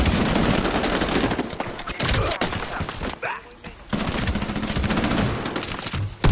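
Machine gun fire in Medal of Honor Warfighter: dense, loud rapid bursts layered with other gunshots, a brief lull in the middle, then sustained shooting resumes.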